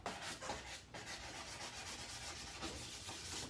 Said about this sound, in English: just a sanding block or a piece of sanding paper is all that you need